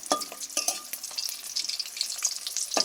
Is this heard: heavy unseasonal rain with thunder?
no